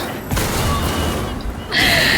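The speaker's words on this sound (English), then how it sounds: "There are so many explosions and shit." Explosions in a video game played in Umbral mode, a dense rumbling barrage of blasts and booms, loud and continuous, ending in a bright crash.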